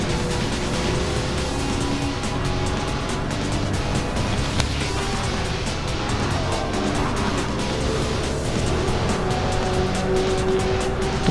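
A Corvette engine droning at high speed in a racing game, a steady, loud, sustained roar with shifting tonal whine and no break throughout.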